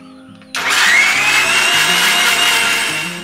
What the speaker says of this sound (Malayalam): ഇനി ഇത് നന്നായിട്ടൊന്ന് ബീറ്റ് ചെയ്തെടുക്കാം